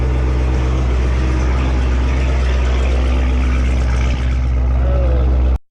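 Dodge Charger Hellcat fitted with JBA catless mid pipes idles after a cold start, a loud deep rumbling burble that stays steady and close, with faint voices briefly in the background.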